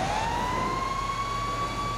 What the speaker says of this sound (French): On peut mettre la sirène aussi.